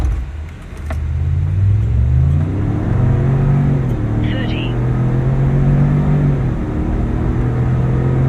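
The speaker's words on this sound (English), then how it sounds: "Let's see how long it takes to get to 60 miles an hour." A 2026 Ford Expedition with a 10-speed transmission accelerates hard from a standstill toward 60 mph, its engine note rising steadily with gear-shift dips under a continuous loud cabin rumble; a voice speaks briefly near the start.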